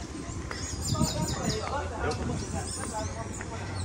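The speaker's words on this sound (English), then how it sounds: "Listen to all the birds. You hear all those birds, Cher?" Birds chirp and twitter outdoors in Barbados in short scattered calls, partly under people talking nearby.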